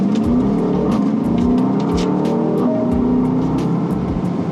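Aston Martin DBX 707 SUV with a turbocharged V8 pulling hard from a standing start, a loud, continuous engine roar with rising tone, heard from inside the car.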